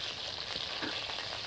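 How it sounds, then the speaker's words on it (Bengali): Eggplant pieces fry in oil for shukto with a dense, steady crackling sizzle, close and continuous throughout, with no one speaking. "বন্ধুরা দেখুন এবার চলছে বেগুন ভাজা,"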